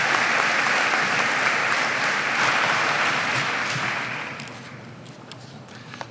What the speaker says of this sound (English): Give him and us a big round of applause.